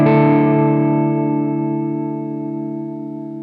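An electric guitar chord played through a TC Electronic Shaker Vibrato pedal at its slowest speed setting rings out and slowly decays, with a gentle pitch warble running through the sustained notes and no other sounds.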